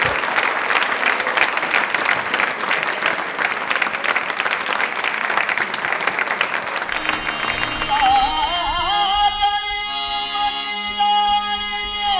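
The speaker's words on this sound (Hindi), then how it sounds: "जोरदार ताली बजाइए प्लीज" Loud, dense audience applause from a crowd at a televised stage show fills most of the stretch, then gives way around eight seconds to sustained music with held melodic tones.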